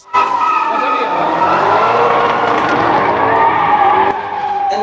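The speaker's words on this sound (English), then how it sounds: "With your beautiful exhaust," A Maserati GranTurismo's engine and exhaust, a loud, sustained, rising roar with tonal bands, close and dominant, cutting off sharply near the end; a voice briefly speaks.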